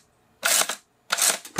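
Shutter curtain of a camera over 100 years old being operated by hand: two separate dry, rattling mechanical bursts, each lasting about half a second, close and crisp with quiet between them.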